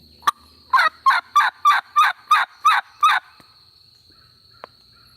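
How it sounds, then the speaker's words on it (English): Wild turkeys gobble during spring turkey season: one sharp call, then a rapid run of about eight loud, rattling gobble bursts in even rhythm, followed by quiet outdoors with a faint click. "I think these turkeys is coming."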